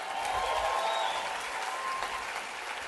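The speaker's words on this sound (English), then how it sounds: "Can we give a big round of applause for Lori and Chris Harder?" Steady applause from an audience fills the clip, a dense continuous patter of clapping at moderate volume with no voices above it.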